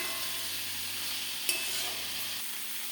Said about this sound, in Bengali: মশলাটা দিয়ে ভাজি কিছুক্ষণ, তো মশলার গন্ধ করবে সবজিটায়।